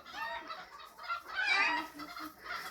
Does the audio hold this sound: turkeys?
yes